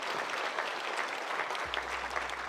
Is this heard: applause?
yes